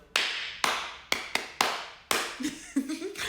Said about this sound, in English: Let me clap for myself.